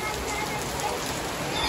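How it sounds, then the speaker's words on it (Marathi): Heavy rain pours steadily down on a residential lane during a Ganpati visarjan procession, a dense continuous hiss with faint voices mixed in the background. "पाऊस अजून वाढला यार, अजून वाढला जोरात."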